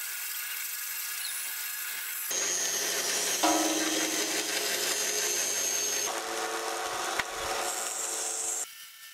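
Sanding of circular pieces for a PVC pipe birdhouse gives a continuous, close abrasive rubbing hiss that shifts in texture across a few long passes.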